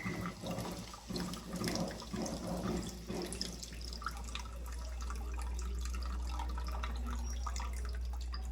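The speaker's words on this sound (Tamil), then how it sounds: "இந்த புளி கரைசல் நம்ம ஆட் பண்ணியாச்சு" Tamarind water is poured into a pan for a village-style spicy fish curry, first with wet splashing and dripping, then settling into a steady low liquid rush, fairly quiet with no voices.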